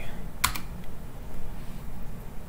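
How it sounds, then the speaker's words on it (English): Keys clatter on a computer keyboard during a NixOS install, a sharp close burst of strokes early, then faint scattered taps over a low room hum, no voices. "So now let's type Alacrity."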